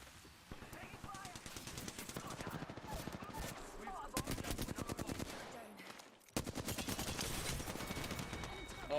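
Rapid automatic gunfire rattles through a video game firefight in a competitive ranked match, dense bursts running nearly throughout, with voices talking over the shooting.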